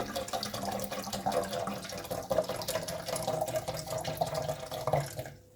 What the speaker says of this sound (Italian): e andiamo a mettergli dentro l'aceto bianco di alcol.